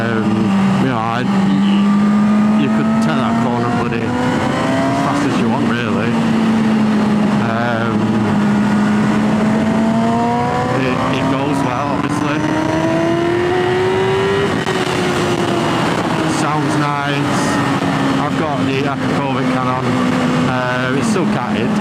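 A 2011 Yamaha R6 sport motorcycle, still catted, revs and pulls while being ridden on the road, its engine and exhaust a loud, continuous wavering whine that rises and falls through gears, with a voice talking over it.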